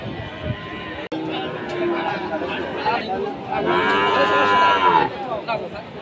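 Cattle mooing at a crowded livestock market in Rajshahi, a long low call rising mid-clip amid the din of people talking nearby.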